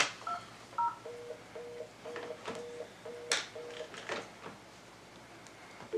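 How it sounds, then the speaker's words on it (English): Telephone keypad dialing at a zoning board hearing, a run of about a dozen short two-tone beeps in uneven rhythm, fairly clear over a quiet room with faint clicks and handling noise. "we need to please get Carol Griswold on the phone"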